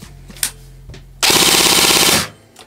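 A G&G CM16 LMG airsoft replica fires full auto with no magazine or BBs loaded: a loud, rapid mechanical buzzing burst lasting about a second, with a few isolated clicks before and after.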